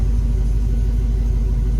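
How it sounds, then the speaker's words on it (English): A 2003 Chevrolet Silverado 1500HD with a tuned engine and 232,000 miles idles steadily, a loud, even low rumble with no revving and no voices. "So you can hear this truck idles out nice."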